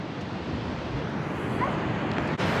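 Waves breaking on Fistral Beach in Cornwall during the off season, a soft, steady wash of surf with light wind, fairly distant and even, with no clear speech.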